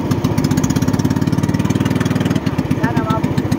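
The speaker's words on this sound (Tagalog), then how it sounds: "At namamalyado ang makina." A small engine that had been misfiring runs after its carburetor was cleaned, chugging close and loud with a fast, even pulsing idle that briefly stumbles partway through.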